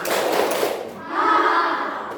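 Schoolchildren in a classroom clap in unison, a dense burst of claps near the start that fades out before a voice carries on.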